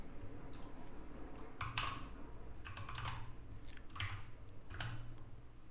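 Quiet, close typing on a computer keyboard comes in irregular bursts of clicks and taps over a faint low hum.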